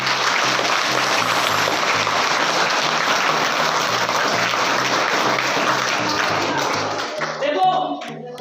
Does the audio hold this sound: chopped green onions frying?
no